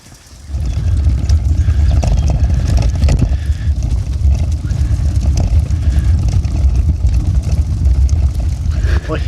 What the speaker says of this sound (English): I hear a vehicle approaching